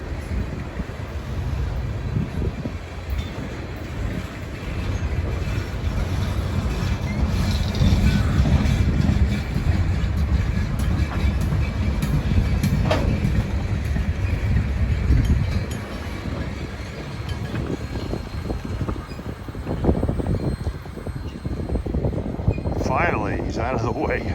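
Freight train rolls past beside the Hudson River, a steady broadband rumble swelling in the middle and easing later, with wind buffeting the microphone and a voice heard near the end.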